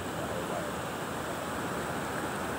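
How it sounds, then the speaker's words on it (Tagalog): Large ocean waves roll in at a beach, giving a steady, distant rushing roar of surf that stays even and unbroken for a few seconds, with no voices. "hindi naman low tide, malalaki lang talaga alon"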